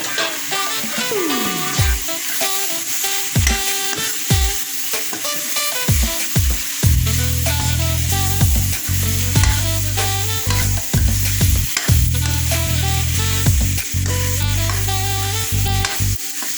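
Meal maker soya chunks frying in a pan, a loud steady sizzle with repeated stirring scrapes and clatter throughout.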